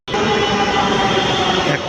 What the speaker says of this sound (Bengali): একটা মেট্রো রেল আসছে